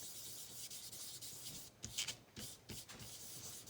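Quiet, steady rubbing as ink is worked onto card stock with an ink pad through a stencil for a Christmas snow card, a soft continuous scrubbing with a few brighter scuffs midway.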